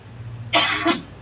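A single sharp cough, close and fairly loud, followed by a brief rough catch in the throat against a quiet background.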